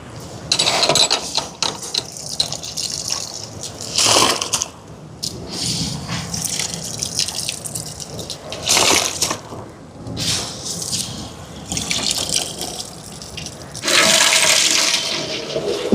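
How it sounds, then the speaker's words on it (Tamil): Washed kiri samba rice is tipped into a large pot of water at a rolling boil while cooking for an almsgiving meal, making loud, close bursts of rushing, splashing water that come and go between quieter bubbling stretches. "உள்ளே நல்லா கொதிச்சுட்டு இப்போ நாங்கள் அரிசியை போடுவோம்"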